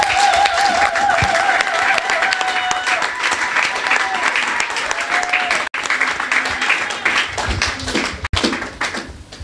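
A church congregation applauding and cheering in praise, a dense continuous wash of clapping mixed with crowd voices and a sung or called tone, loud and sustained throughout.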